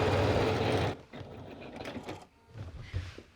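A sewing machine runs a quilting line through a bomber jacket lining, a fast buzzing stitch that stops after about a second, followed by quieter handling and rustling of fabric.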